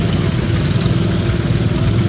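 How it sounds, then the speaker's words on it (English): A 1970 Case model 202 lawn tractor fitted with dual wheels rolls along in a tractor parade, its small engine giving a steady, close, rough low chugging throughout with no pauses. "Carl Masson on a 1970 Case model 202 lawn tractor."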